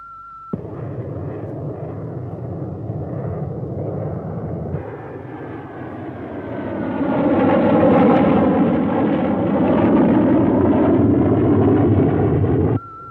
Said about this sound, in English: Aircraft approaching the island.